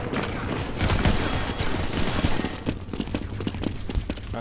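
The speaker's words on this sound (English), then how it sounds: "I finally shoot my gun" Gunfire from a video game gun, a dense rapid run of loud shots and impacts packed together, close and continuous, easing slightly toward the end.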